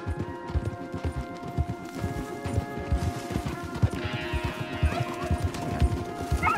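Horses walk along a wooded path in Red Dead Redemption 2, hooves clip-clopping in a steady, close rhythm, with a neigh and some scraping near the end.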